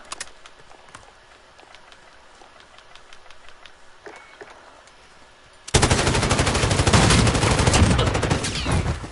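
A light machine gun in Call of Duty: Modern Warfare opens up after a few seconds of quieter game noise and scattered shots, then fires one loud, sustained automatic burst that rattles on to the end.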